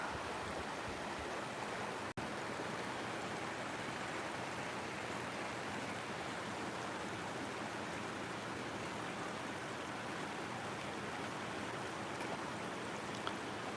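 Floodwater rushes through an arroyo ditch over five feet deep, filled to the top and overflowing, making a steady, dense roar that never lets up. One brief click breaks it early on.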